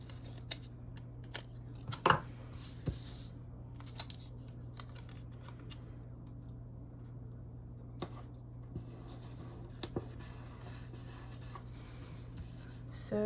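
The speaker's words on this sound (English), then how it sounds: "I cut that crooked even with a pair of scissors" A few scattered, quiet snips of scissors through paper over a steady low hum, with long pauses between cuts.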